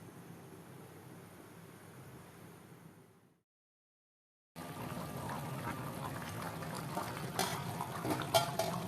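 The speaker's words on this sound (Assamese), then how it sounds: "চাওক, আমাৰ আঞ্জাখন এতিয়া ভালদৰে উতলিবলৈ ধৰিছে।" Assamese-style masala chicken curry with added water boils in a pot, a steady close bubbling and simmering wash that cuts to silence briefly, then returns louder with small pops and spatters.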